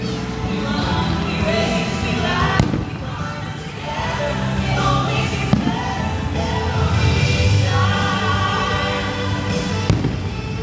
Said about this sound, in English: that was a hell of a fireworks show